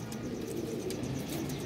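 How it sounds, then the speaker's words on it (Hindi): A female pigeon coos softly and continuously close by, among other pigeons kept in a loft, with faint chirps above the low, rolling coo. "मादी जो है ऐसे गूं गूं कर रही है"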